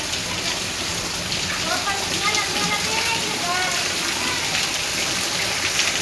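Heavy first rain of the season pouring down in a village, a dense, steady hiss of downpour with constant roar throughout, close and loud.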